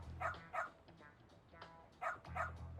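Small dog barking in the video game Lost Judgment, a few quick yips in pairs, faint and fairly close, with short gaps between bursts.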